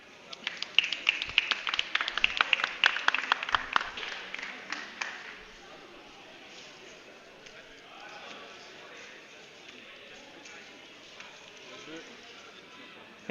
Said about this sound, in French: On n'oublie pas d'applaudir.